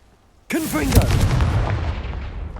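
A Confringo blasting curse in Hogwarts Legacy goes off as one sudden loud explosive boom with a rushing burst, then a long rumbling decay.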